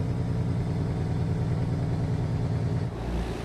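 A truck's engine brake runs at stage 2 with a steady, rapid chattering rumble that stays loud and even for about three seconds before easing off slightly at the end, with no talking over it.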